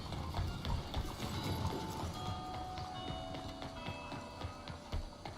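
Horse hooves clopping in Red Dead Redemption 2, a steady rhythmic clip-clop at moderate distance over busy game ambience with faint clicks and tones.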